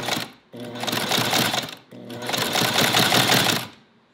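A motorized leather sewing machine stitches in two fast, loud bursts of rapid mechanical hammering, separated by a short pause, then stops.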